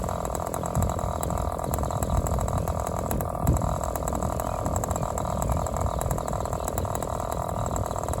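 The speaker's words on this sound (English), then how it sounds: "Kind of a low idle we can get out of it at that setting." A model airplane glow engine runs at low idle, a continuous buzzy, rattling drone with steady rhythm, loud and close.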